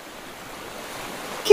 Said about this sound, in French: Des vagues.